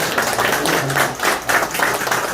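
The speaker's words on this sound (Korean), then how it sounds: "우리 동지들에게 큰 박수 부탁드립니다" An audience claps at the opening of a campaign office for a provincial council candidate, a brief burst of clapping that rises and falls in uneven waves, moderately loud and without talk over it.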